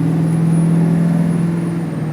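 A 7.3 Powerstroke diesel truck towing a 14-foot trailer onto the freeway, its steady loud engine drone and road rumble continuous and close from a cabin perspective.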